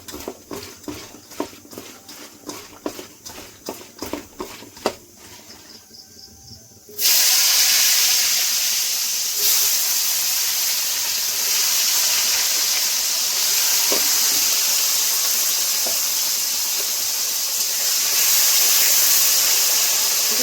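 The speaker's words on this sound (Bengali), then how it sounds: "আলুগুলো ভেজে নেব।" Potatoes fry in hot mustard oil in a wok: after several seconds of quieter clinking and handling, a loud, continuous hissing sizzle bursts in and holds steady up close, with no voices.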